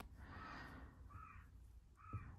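A crow caws a few times in the distance, faint, against steady outdoor rumble and background noise.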